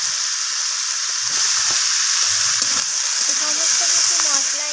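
Ground cumin and red chilli powder sizzle in a pan for a spinach and cauliflower stalk curry, a continuous close hiss with occasional scraping stirs and faint background voices.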